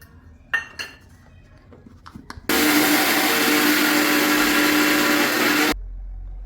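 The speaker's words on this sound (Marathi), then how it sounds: "साखर आपण मिक्सरमध्ये फिरवून घेतलेली आहे" A kitchen mixer grinder whirs loudly for about three seconds, grinding sugar into powdered sugar, after a few clinks of utensils and before stopping abruptly.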